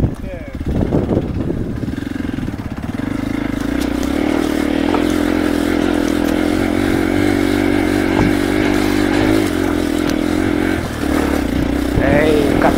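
A Hero Xpulse Rally Pro motorcycle with an Akrapovic exhaust labours up loose sand, its engine droning steadily and loudly at close range with some clatter and scraping, while people talk over it.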